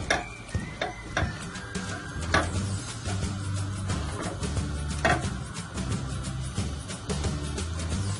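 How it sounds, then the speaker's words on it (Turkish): Red onion sizzles gently in olive oil while a utensil clicks and scrapes against the pot every so often; no one talks. "Bunu bir güzel kavuralım."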